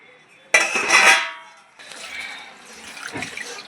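Running water splashes and rattles as green chillies and coriander are rinsed, loud at first then settling into a softer, steady washing sound.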